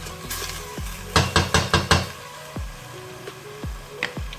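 A pot of tomatoes cooks down for butter chicken. A utensil scrapes and stirs, with a quick run of five clanking strokes against the pot and softer taps spaced after them, all over a low simmer.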